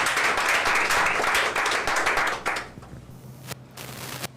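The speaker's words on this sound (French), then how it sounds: "Je vous demande d'applaudir Bay Erreur." An audience at a reading contest claps loudly for a couple of seconds, then the applause thins out and dies away to scattered claps.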